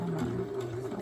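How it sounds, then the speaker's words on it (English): Home sewing machine stitching down the sides of a three-layer fabric face mask with a filter pocket, a steady close motor whir with a rapid needle rattle running continuously for about a second. "I'm just going to sew the sides right next to it so it cannot move back and forth"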